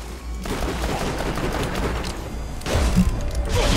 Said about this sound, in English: Let's get my pistol out.